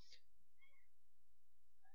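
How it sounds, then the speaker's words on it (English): A house cat gives a short, faint meow, followed by a couple of softer chirping mews in a quiet indoor room. "Excuse my cat."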